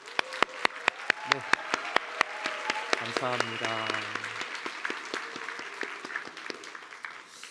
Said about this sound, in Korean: 우리 박수로 목사님 좀 축복하겠습니다